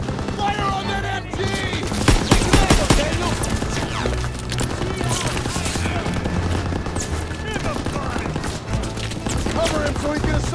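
Rapid, sustained machine gun fire from a World War II battle at Hill 493 in Call of Duty WWII, with an MG pillbox firing; dense bursts run loud and continuous throughout, mixed with battlefield clatter and occasional shouted voices.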